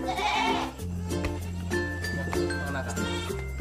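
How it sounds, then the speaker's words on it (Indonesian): Goats bleating at night in a pen, several wavering calls close by, with people talking over and between them. "Malam-malam ngejak kambing."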